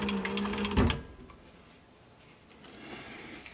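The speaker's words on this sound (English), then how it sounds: "We want to just sew the very edge of this down to the cap here." A sewing machine runs in one brief close burst along the edge of a sweatband on a short-brim cap, then stops, leaving faint handling noise.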